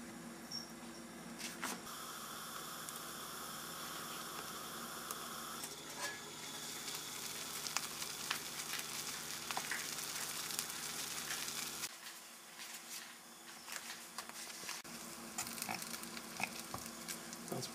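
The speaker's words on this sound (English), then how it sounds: "I'm going to have to fire up the alcohol burner once more" Pine resin pitch heats over an alcohol burner with a soft, steady sizzle and faint crackling pops, a quiet close-up simmer that continues throughout.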